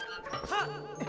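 Dog barking in Zelda Twilight Princess: a brief, close pair of yelping barks with a whimpering tone, loud and alone.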